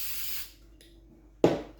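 Two hissing bursts from a spray can of adhesive on a Triumph Spitfire seat cover, a short one followed by a louder, sharper spray after a brief pause.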